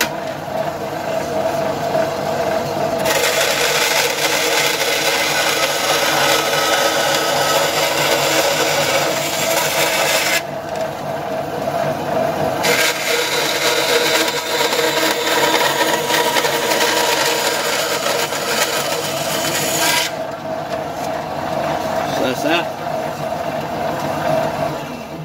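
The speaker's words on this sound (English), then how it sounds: "going to cut down here, just here and here, because we need to bend that piece up" Power tool cutting a metal under-seat tray for a Suzuki GSXR 750, a loud continuous high whine running in long stretches, dropping briefly between cuts, with no talking.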